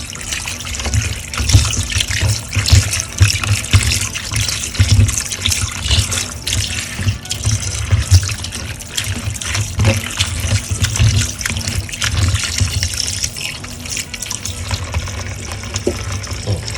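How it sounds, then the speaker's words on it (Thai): Tap water runs steadily into a kitchen sink while liver is rinsed under it, a loud, close, continuous splashing and gurgling with small shifts as the flow hits the meat. "แล้วก็เปิดน้ำนะครับ"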